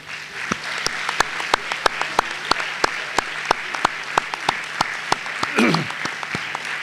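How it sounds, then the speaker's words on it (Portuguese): An audience in a small auditorium applauds firefighters at a benefit evening, a soft bed of scattered clapping cut by loud, regular claps from one nearby pair of hands, with a brief voice rising near the end. "vos pedia também uma salva de palmas"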